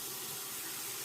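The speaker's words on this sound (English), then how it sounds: "And I'm going to run a little bit of hot water here." Hot water runs steadily from a bathroom tap into a sink while preparing a shave with a synthetic-knot brush, a continuous broadband hiss alone at low, even level.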